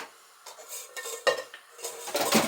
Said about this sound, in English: I found a saucepan